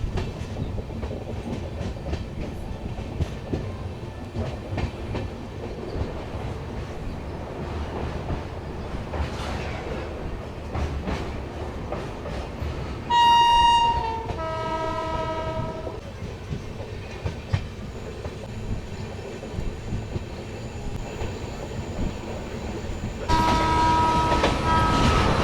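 The Sealdah Balurghat Express 13189 rolls along the rails with a continuous rumble and rhythmic clickety-clack heard from on board, as a loud horn blares twice in the middle and again near the end.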